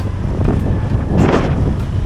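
Strong wind buffets the microphone on a road in Siargao, a loud, rumbling roar with gusts surging and easing throughout.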